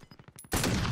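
Video game shooter gunfire: a few light single shots in quick, uneven succession, then a loud, dense burst of rapid automatic fire that fills the second half of the moment up close.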